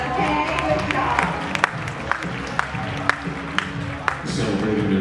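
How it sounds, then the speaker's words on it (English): A baseball stadium crowd at a High Point Rockers versus Gastonia Honey Hunters game claps in scattered, sharp bursts, with an announcer's voice over the applause. "let's give her a huge round of applause, okay?"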